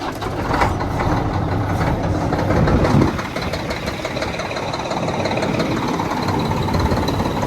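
An old Kenworth truck with a small Cummins diesel engine turns over and settles into a steady, loud idle, with a rough, knocking rumble that continues throughout.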